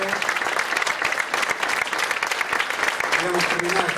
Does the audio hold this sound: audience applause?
yes